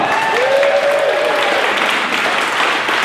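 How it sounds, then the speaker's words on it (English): An audience applauds loudly and continuously at a Corvette giveaway awards ceremony, with a brief rising whistle cutting through the clapping early on. "let's give the Corvettes a round of applause"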